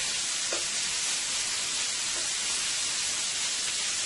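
Shrimp cooking in a hot pan, a steady close sizzle and fizz filling the whole clip with a few soft tool touches, no voices.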